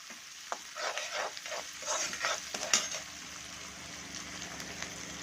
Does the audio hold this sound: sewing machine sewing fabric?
no